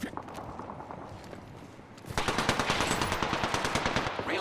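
Gunfire in the Apex Legends video game starts after a quieter stretch, a rapid automatic burst of evenly spaced, loud close shots that runs steadily to the end.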